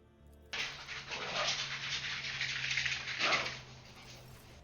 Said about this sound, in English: Oh, dog feeding time it looks like.